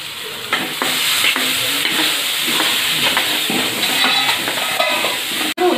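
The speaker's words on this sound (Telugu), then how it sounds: "ఇప్పుడు ఆనియన్ వేస్తున్నాను కళ్యామాకు వేస్తున్నానండి" Onion and curry leaves fry in hot tempering oil with cumin, mustard seeds and turmeric, a loud, close, continuous sizzle broken by scraping stirs.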